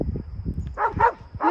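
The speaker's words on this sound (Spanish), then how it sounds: "Juegan muy pesados esos perros." Several dogs bark and yip in short bursts while playing roughly near horses at dawn in the Valle de Cocora, Colombia, a few sharp barks clustered in the second half over low rumbling background.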